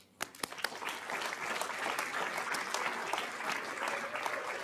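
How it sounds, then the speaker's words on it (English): Steady audience applause fills a school board meeting room, a sustained wash of many hands clapping at moderate distance with a few sharper nearby claps at the start, no voices over it. "Congratulations and a round of applause to Redfield Elementary School and Principal Dr. Amanda Rand."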